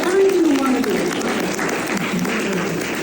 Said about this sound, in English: Can we get some applause for that?